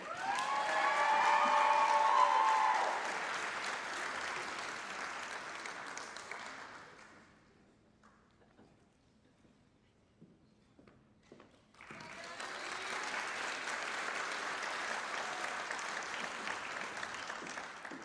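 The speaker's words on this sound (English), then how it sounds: "give our class of 2023 one more resounding sound of applause" A crowd applauds the nursing class of 2023 at a pinning ceremony, loud sustained clapping with a little cheering that fades away, goes quiet for a few seconds, then swells back up just as strong.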